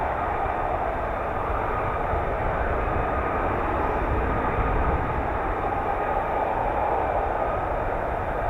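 An F-35B stealth jet from 809 Naval Air Squadron taxiing, a loud, continuous roaring hiss with a low rumble that stays steady and close without a break.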